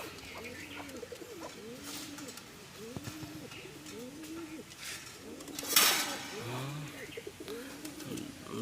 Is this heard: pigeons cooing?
yes